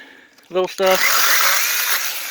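An Inokraft 4-inch mini chainsaw cuts through tree limbs with a close, high-pitched buzzing whine that holds steady for about two seconds after a couple of short bursts. A voice is briefly heard at the start.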